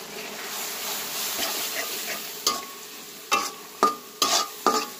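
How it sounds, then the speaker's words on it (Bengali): Turmeric, chilli, coriander and cumin powders fry in tomato juice for a prawn and bottle gourd curry, a close, steady sizzle punctuated by several sharp spatula scrapes and stirs toward the end. "এই রসে আমি মশলাটা কষিয়ে নিব 2 মিনিট"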